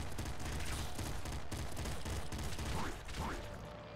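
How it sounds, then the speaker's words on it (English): Rapid video-game gunfire in Nuclear Throne, with a dense, continuous barrage of loud shots and explosions filling the whole stretch, under faint background game sounds. "You need to stop shooting bullets through walls, my friend."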